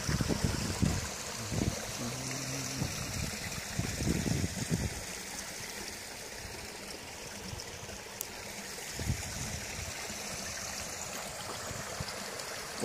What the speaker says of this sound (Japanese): 春の小川